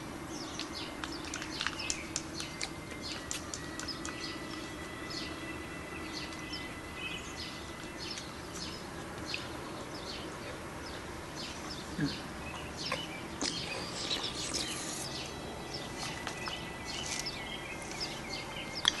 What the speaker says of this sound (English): These birds keep flying around in weird circles.